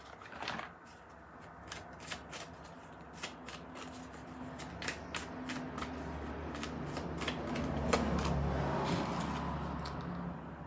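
Synchronicity oracle cards being shuffled by hand, a continuous papery riffle with sharp repeated card snaps over a steady low background hum, close and moderately loud.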